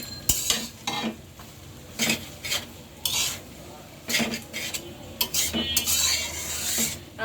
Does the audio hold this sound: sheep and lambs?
no